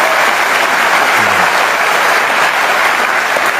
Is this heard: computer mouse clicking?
no